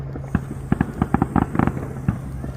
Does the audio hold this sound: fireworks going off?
yes